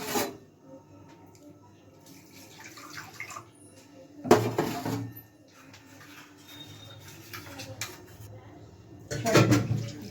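A bowl is rinsed out with milk during carrot kheer cooking, with quiet liquid sloshing and a few sharp clinks and knocks of the bowl against a pot or counter.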